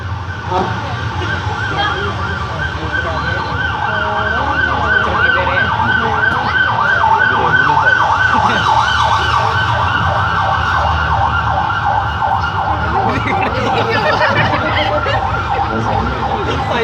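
A loud ambulance siren wails continuously and close by, its rising and falling tone over engine noise.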